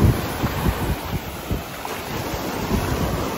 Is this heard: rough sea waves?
yes